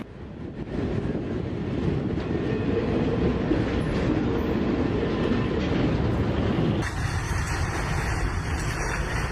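A train rolls by on rails with a loud, continuous rumble and rattle that holds for several seconds, then cuts abruptly to a quieter, hissing tail.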